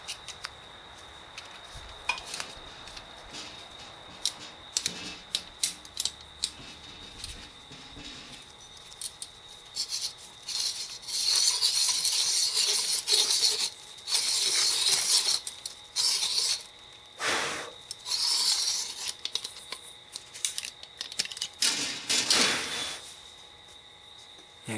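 A piston ring groove cleaning tool scrapes metal in intermittent gritty bursts, faint at first and then in a run of longer, harsher strokes, close up with no speech.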